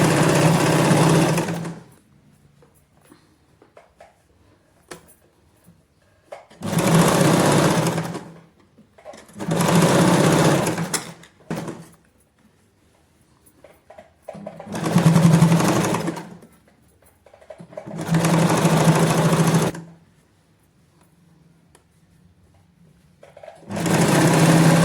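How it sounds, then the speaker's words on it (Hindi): Loud bursts of sewing machine stitching along a folded, pressed palazzo hem, about six separate runs of a few seconds each, broken by near-silent pauses while the fabric is repositioned. "अब मैं इसके ऊपर स्टिच लगा रही"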